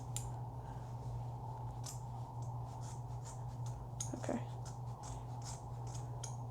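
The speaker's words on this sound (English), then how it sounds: "Hold on, I gotta get a pair of scissors." Scissors snipping through a person's own hair at home; a series of short, crisp cuts close to the microphone over a low background hum, with a brief spoken word.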